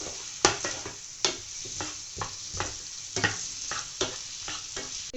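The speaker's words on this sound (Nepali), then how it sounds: "यसलाई एकछिन चलाइदिने।" Chicken Manchurian sauce thickened with cornflour and stirred in a pan, giving a steady close sizzle broken by repeated scraping strokes and sharp clinks of the spoon against the pan, with no voices.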